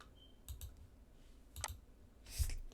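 A computer mouse in DaVinci Resolve gives a few quiet, sharp clicks spaced across a couple of seconds, close to the mic with no talking.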